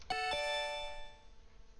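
A pair of chimes sounds from the infotainment system of a 2022 Ruffier PVA70, two quick ding-dong tones ringing out and decaying slowly in a quiet cabin.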